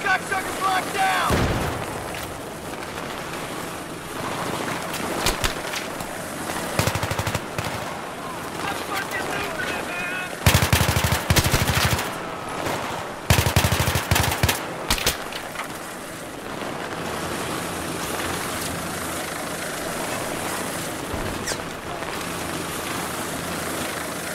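Gunfire in the Battlefield 3 campaign, with loud dense bursts around the middle over a constant roar of battle noise, and voices heard at times.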